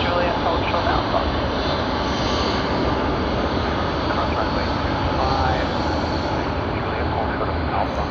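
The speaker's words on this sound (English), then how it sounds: "And this is China Airlines that has come in from Taipei." China Airlines airliner arriving from Taipei and landing on runway 34 right at Sydney Airport, a steady, loud broadband engine roar sustained throughout, with a voice talking over it.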